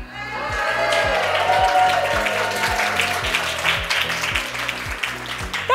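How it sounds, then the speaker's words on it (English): A keynote audience in a full room cheers and claps together, a loud sustained wash of applause and voices that swells early and then slowly thins, with music playing underneath. "Can you say hi and cheer?"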